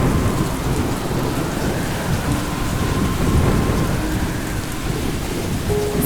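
Heavy rain pours steadily, a dense roaring hiss, while thunder rumbles low and continuously beneath it.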